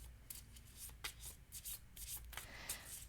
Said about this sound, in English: So hard to shuffle so little